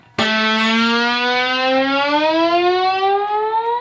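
A sustained guitar note slides upward while a second string tone bends downward beneath it, both ringing together for several seconds.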